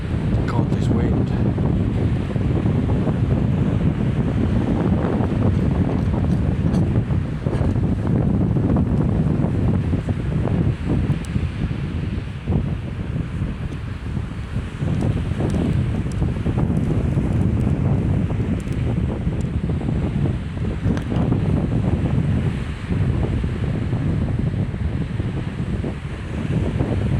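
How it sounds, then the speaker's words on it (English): Strong 35 mph wind buffeting a microphone on the water during a fishing outing, continuous heavy roaring gusts with rumbling buffets and wave wash, loud and unbroken throughout. "God, this wind."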